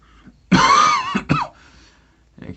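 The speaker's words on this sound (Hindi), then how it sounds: "खांसी जो है जब पकड़ लेता है किसी को तो जल्दी छोड़ता नहीं है" A single person coughs during a spoken maths lesson: one harsh, loud cough burst followed by a shorter second one, then near silence with faint room noise.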